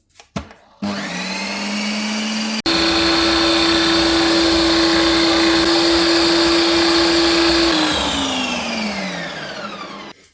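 A Ninja Creami machine on its sorbet setting churns pear sorbet made from canned pears in syrup, clicking on and then spinning up to a loud, steady, high-pitched motor whine that holds and then winds down in pitch as it finishes.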